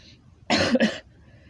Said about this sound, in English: And I keep coughing, okay?